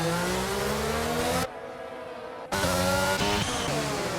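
Race cars in a Formula-style racing video game at the Bahrain circuit, engines screaming loud and continuous with shifting pitch, dropping to a muffled lull for about a second before the roar returns at full volume.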